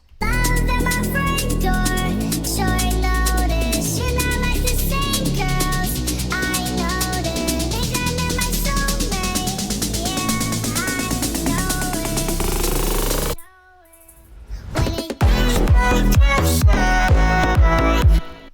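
The build-up of a slap house track: dense layered synths and a driving pulse build, cut to near silence, then surge back in loud and full.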